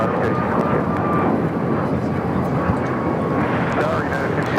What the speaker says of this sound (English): Alaska Airlines 286 taking off to Newark on the MAX 9